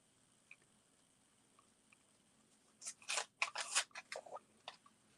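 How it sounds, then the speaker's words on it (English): Scissors cutting fabric pieces for sewing, a quiet room then a cluster of crisp snipping and crunching cuts in quick succession lasting about two seconds, close and fairly faint. "Now you can cut all your pieces."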